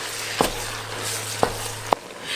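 Meat and vegetables for chili fry in a pan with a steady close sizzle, broken by three sharp scrapes or taps of a utensil as the mixture is stirred.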